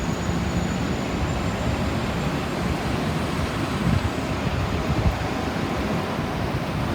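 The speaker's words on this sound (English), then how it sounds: "So, guys, it's windy and it's raining." Wind and rain at an outdoor bus stop, a steady broadband rush of gusts and falling water that stays loud and even throughout, with a couple of slightly stronger gusts and no talking.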